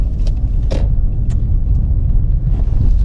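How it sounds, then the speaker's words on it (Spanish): A Toyota RAV4 with a suspected engine misfire pulling away from a standstill, giving a close, low, continuous engine rumble with a few faint creaks over about three seconds. "voy a hacer una aceleración desde cero y ver si es que me falla"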